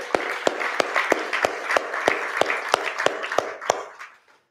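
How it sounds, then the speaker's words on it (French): Audience applause at an on-stage event in Sophia Antipolis, a steady patter of hand claps with a few sharp, louder claps standing out, moderately close, fading out at the end. "On l'applaudit bien fort."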